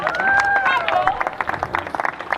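Crowd at an under-18 Christmas semi-final cheers and claps for a vice captain during player introductions, a steady roar of applause with scattered whistles that thins into broken clapping.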